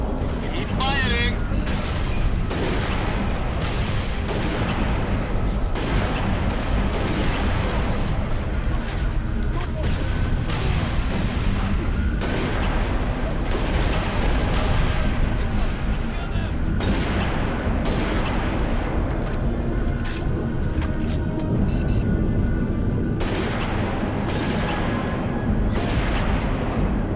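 Sustained gunfire and explosions from a Halo Reach campaign battle at night crackle and boom without pause, dense and loud, with shouted voices mixed into the combat.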